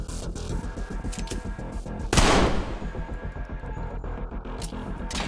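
Gunfire in the shooter game Trepang2, a steady run of rapid shots with one loud, dense burst of impact partway through, over a constant low hum.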